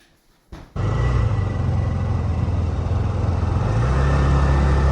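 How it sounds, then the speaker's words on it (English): A scooter engine starts up and drones steadily while riding outdoors in Puerto Rico, loud and close with wind rumble, with no talking. "Let's go for a little joyride on my scooter to some of my favorite spots in Puerto Rico"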